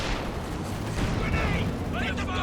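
A time-on-target artillery barrage in the Company of Heroes 2 war game pounds a position with dense, overlapping booms and rumbling blasts, loud and continuous over busy battlefield noise.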